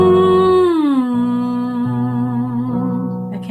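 A single voice sings a sustained vocal exercise moving between two pitches a fifth apart, gliding down from the higher note and holding the lower one, clear and close.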